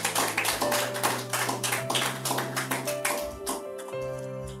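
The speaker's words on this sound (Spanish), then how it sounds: "dale un aplauso al Señor esta tarde" A church congregation claps in a steady rhythmic beat, a run of even sharp claps over sustained musical tones that fades toward the end.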